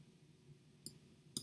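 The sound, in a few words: computer mouse click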